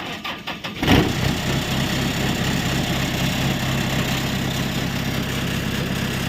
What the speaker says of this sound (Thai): เป็นเครื่องยนต์ไดเรกอินเจคชั่นครับ